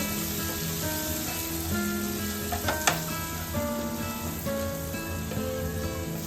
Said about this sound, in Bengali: এটা হালকা ভাজা হয়ে গেছে মশলাগুলো